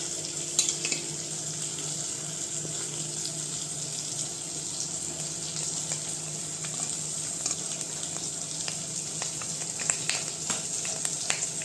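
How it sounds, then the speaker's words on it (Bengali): Papads, including chilli and tomato papads, frying one by one in a little olive oil; a continuous close sizzle and crackle with scattered sharp pops, no one speaking. "তো এক এক করে ভাজি, আমি অলিভ অয়েল দিয়েই ভাজছি।"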